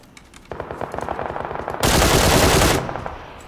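Automatic-weapon fire in the battle royale game PUBG comes as a rapid, rhythmic burst of shots, then swells into a louder, denser roar of sustained fire before easing off.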